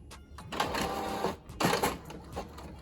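A printer feeds and prints a sheet of tissue paper taped to cardstock, giving a steady mechanical whir and clatter in two main passes with short pauses, close and fairly loud with no talking.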